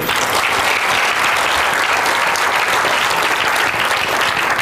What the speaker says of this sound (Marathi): त्यामुळे मला वाटतं की एकदा टाळ्यांचा गजर झाला पाहिजे